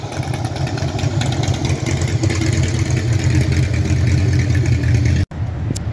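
A motorcycle ridden by a woman with long hair going by on the road, its engine a steady, close mid-pitched drone that holds throughout with a brief break near the end.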